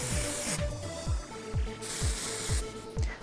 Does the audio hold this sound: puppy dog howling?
no